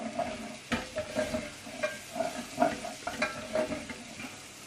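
Shallots and garlic sizzle in a pan as they are stirred, a soft, close frying crackle broken by repeated scraping strokes and small clacks of the spoon in a steady rhythm.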